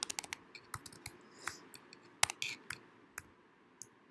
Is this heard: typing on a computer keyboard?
yes